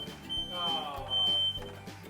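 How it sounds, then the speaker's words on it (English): A smoke alarm set off while bacon cooks sounds high-pitched electronic beeps in a short broken pattern, moderately loud indoors, with faint background noise and low thumps. "See? The fire alarm."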